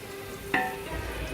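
Cinnamon and cloves stirred into hot oil for mutton dum biryani, with a short scrape of the spoon followed by a soft, steady sizzle close by.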